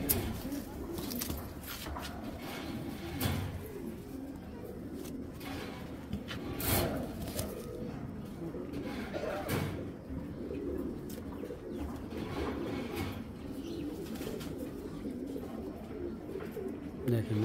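Khaki pigeons cooing softly and repeatedly after a hen is released among them, a low murmuring coo running steadily under background noise, with someone talking at times.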